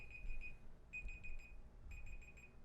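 An electronic timer beeps in short clusters of rapid, high-pitched tones, with three bursts separated by brief pauses, faint and heard alone against quiet room noise.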